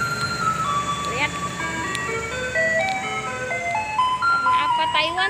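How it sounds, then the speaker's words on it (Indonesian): A garbage truck in Taiwan plays its tinkling electronic melody loudly and steadily, the tune stepping through bright repeated notes over a low engine rumble, with a voice speaking near the end. "Nih, mobil sampahnya kayak gini."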